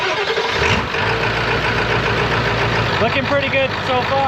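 A Ford 7.3 PowerStroke diesel engine cranks and starts, settling into a steady, loud idle close by, with someone talking over it.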